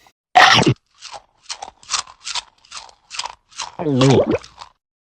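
A cartoon wolf eats noisily with a loud first bite followed by about seven rhythmic crunching, chewing bursts, then a short voiced grunt of satisfaction near the end.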